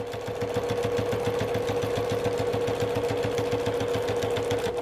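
A sewing machine runs a back stitch on a travel bag with a rapid, even mechanical chatter that goes on steadily and close throughout, with a strong motor hum under the needle beats.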